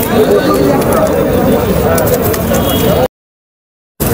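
Pigeons, including Sirazi birds, coo amid the busy, steady crowd noise of the Katakhali pigeon market in Rajshahi, with voices talking close by before the sound cuts out briefly.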